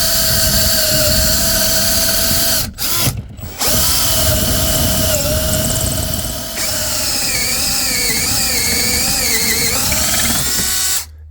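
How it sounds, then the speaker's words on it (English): Brand-new step bit (unibit) drilling through the metal of an RV front door, a loud high whining grind that cuts out briefly twice, then resumes with wavering pitch as the bit bites through successive steps. "for the rest of the holes, I'm going to use a brand new unibit right here"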